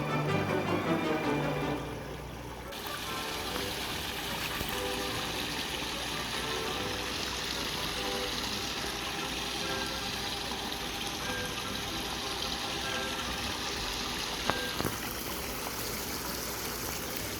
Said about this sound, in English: We've got the waterfall. It's not in full blast though.